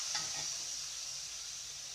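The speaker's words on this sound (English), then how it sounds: "Sorry, I didn't defrost the sausage properly first, so it does sizzle as we cook." A sausage that was not fully defrosted sizzles in a frying pan with a steady bright hiss and a few soft spatters near the start, close and unbroken, with no talk.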